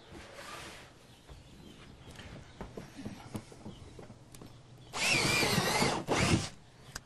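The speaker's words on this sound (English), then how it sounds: "I'm simply going to take a 3/8 inch drill and punch through the outer container" A power drill with a 3/8 inch bit whirs loudly in two bursts near the end, boring through a plastic container, after a stretch of faint rustling and tapping.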